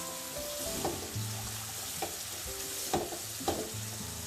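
Mixed vegetables frying in oil for garlic vegetable fried rice, a steady close sizzle broken by a few sharp stirring scrapes and clinks of a spoon against the pan.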